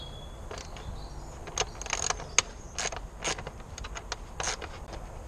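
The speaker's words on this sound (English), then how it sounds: "there's two bolts that you have to remove first." Bolts being undone over the air filter housing of a Ford Fiesta Mk6, a series of faint close metallic clicks, ratchet ticks and rattles in a quiet garage with no voices.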